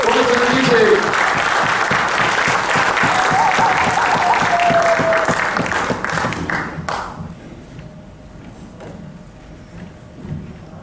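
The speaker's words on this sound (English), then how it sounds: "Put a rapturous round of applause to the Simmons family." A rapturous round of applause from a stage-event audience for the Simmons family, dense continuous clapping that holds strong for about six seconds before thinning and fading, with music and faint voices lingering underneath.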